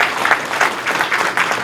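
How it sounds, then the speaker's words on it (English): A town hall audience gives the panel a short burst of applause, moderately close and even, with no talking over it. "I want to give the panel a round of applause."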